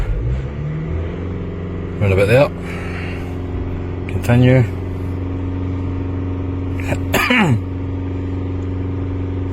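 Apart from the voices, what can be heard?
car engine revving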